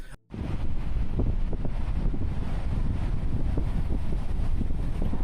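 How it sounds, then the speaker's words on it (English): Strong wind buffets and rumbles continuously, loud and close, with no voices. "Still really windy"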